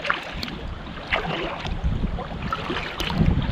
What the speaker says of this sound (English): Sounds like we're about to be overtaken by another boat.